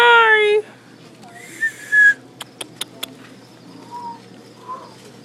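A pet bird whistles up close: a clear rising whistle, a few quick sharp chirps, then softer short calls, with faint voices in the room.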